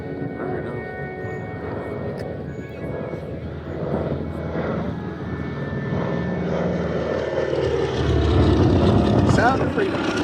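The C-47 That's All Brother, a D-Day veteran transport plane, drones past at the Midland, Texas airshow, its propeller engines swelling steadily louder and nearer, with a voice speaking over the approach.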